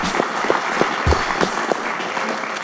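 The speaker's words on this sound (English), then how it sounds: "niel, John, Nicole, and Graham, Rob, Duncan, please give them a round of applause." Audience applause at the close of a finance event, scattered individual claps and crowd noise at moderate level, fairly brief.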